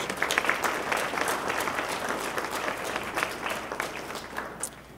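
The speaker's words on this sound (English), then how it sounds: "Please acknowledge them with a round of applause." Audience at a mayor's announcement event in Columbus applauds, a soft, even patter of many hands that starts a little stronger and slowly tapers off.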